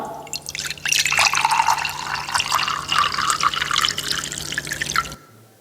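Liquid pours steadily for about five seconds, a bright splashing trickle into a container that stops abruptly.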